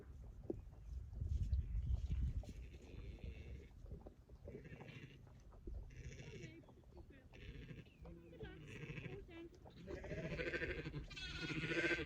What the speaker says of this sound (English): Minnie and Spot love to come and help me whilst I'm trying to get sheep and lambs into the trailer.